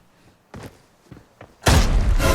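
Grenade blast in the shooter game Arena Breakout: a few soft thuds and knocks, then a sudden loud explosive burst that stays heavy to the end, with no talk over it.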